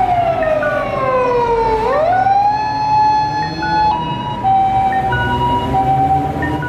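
An electronic toy fire truck siren sweeps down, then rises and holds a steady wailing tone, loud and close with a faint background hum.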